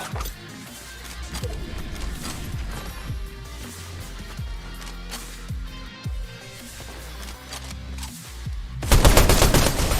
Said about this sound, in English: I'm gonna try to get the last kill with the pistol if I can.